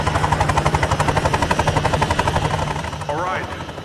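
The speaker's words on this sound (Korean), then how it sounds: "약속 장소로 찾아온 드러커의 부하들은 아담의 목소리가 들려온 헬기에 총격을 가해 추락시켜버리지만" A helicopter under gunfire in an action film: a loud, fast rhythmic rotor chop with rapid bursts mixed in. It runs steadily before thinning out near the end.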